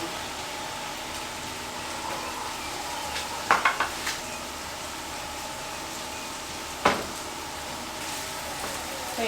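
Garlic butter fried rice sizzles steadily in a pan, with a few sharp clinks and scrapes of a utensil stirring against the metal, close and moderately loud.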